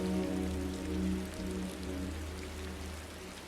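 Heavy rain patters in a dense, steady hiss over a low sustained droning hum, with no distinct hail impacts standing out.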